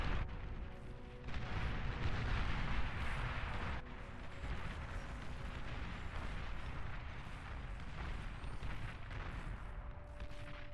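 A commander unit blown apart in the strategy game Beyond All Reason, a booming explosion at the start followed by a long rumbling roar of blasts and battle noise, fairly quiet overall and with no voices.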